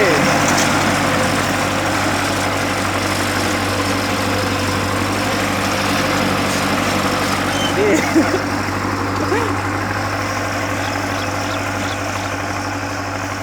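A tractor engine idles steadily for the whole stretch, a loud constant low thrum with a regular pulse, while people talk nearby.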